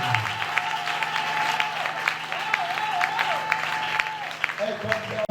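Congregation applauding during a Sunday church service, a steady dense wash of clapping sustained throughout with voices and singing carrying over it.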